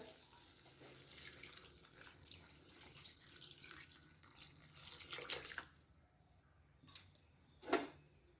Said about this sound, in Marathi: तर यामध्ये पाणी ओतून घेऊया